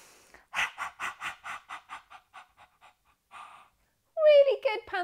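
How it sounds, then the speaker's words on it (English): A group of children pant quickly like dogs during a yoga class, a run of about a dozen short, rhythmic breaths fading toward the end, then a voice speaks. "Now we're going to pant quickly."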